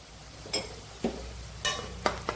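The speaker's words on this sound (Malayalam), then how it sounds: "അതുകൂടി നല്ലവണ്ണം ഇളക്കി ചേർക്കാം" A spoon stirs chili powder into a garlic pickle in a pan, making several short scraping strokes spaced about half a second apart over a faint frying hiss.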